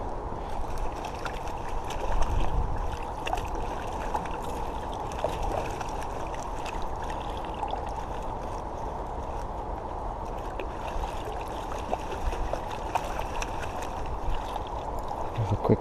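Harvested allotment vegetables get a quick wash, giving steady moderate sloshing and trickling water with small splashes throughout, close and continuous.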